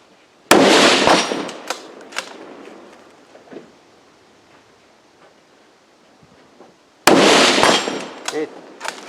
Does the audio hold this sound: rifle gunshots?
yes